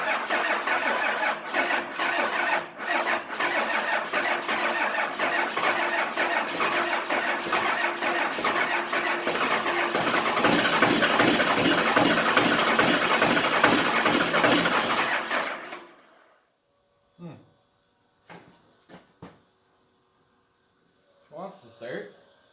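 An engine cold starting on a winter day, with fuel showing at the number one injector; the starter cranks in a rapid rhythmic chug for about fifteen seconds, then cuts out, leaving a few short knocks and faint sounds.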